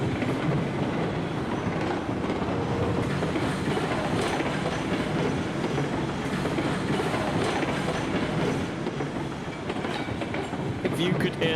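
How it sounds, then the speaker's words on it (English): A steam-era freight train in the railroad simulation game Railroads Online rumbles past close by at about 40 mph, with loud, continuous clickety-clack of wheels on track and a constant roar. "If you could hear that train as you went past my head"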